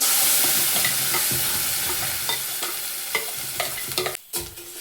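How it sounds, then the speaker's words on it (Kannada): Ground masala added to a hot pan with oil for a greens-based bassaru curry, frying with a loud continuous sizzle, steady stirring scrapes and a few clinks, close up with no talk. "ಇವಾಗ ಇಷ್ಟನ್ನು ಸ್ವಲ್ಪ ಫ್ರೈ ಆದಮೇಲೆ ನಾವು ಮೊದಲೇ ಗ್ರೈಂಡ್ ಮಾಡಿ ಇಟ್ಕೊಂಡಿದ್ವಲ್ಲ ಮಸಾಲ, ಅದನ್ನ ಹಾಕ್ತಿದ್ದೀನಿ"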